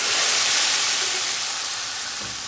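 Loud, steady sizzling hiss that fills the clip and slowly eases off as hot tempering is poured into haleem.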